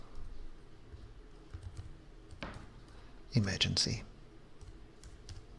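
A short, close burst of clicky computer keyboard typing into a form field, a quick run of keystrokes lasting under a second, with a voice speaking softly before it.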